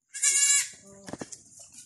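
Goats bleat on a small farm: one loud, sustained, nasal bleat near the microphone, then shorter, fainter bleats and calls that trail off. No one speaks.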